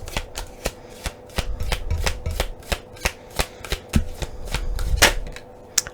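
Tarot cards are handled and shuffled in a quiet room, giving a series of sharp, close snaps and slaps at uneven intervals over soft rustling.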